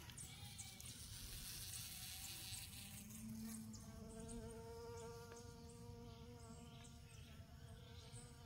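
A bee buzzing in a Jamaican backyard farm, a continuous close insect drone with steady tonal whine wavering slightly, alone with no talk over the faint outdoor background.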